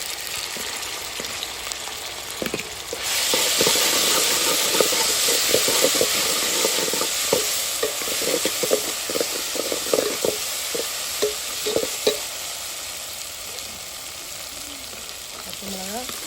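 Onions fry golden in a pan for chicken curry, a bright continuous sizzle that swells after a few seconds, punctuated by a regular series of spatula scrapes and taps.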